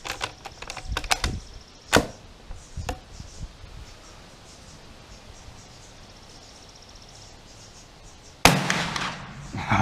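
Sharp cracks and clicks from a Dutch Model 1871/88 Beaumont-Vitali black powder bolt-action rifle being worked and fired outdoors, a cluster of close snaps early, then quiet, then a loud booming blast near the end.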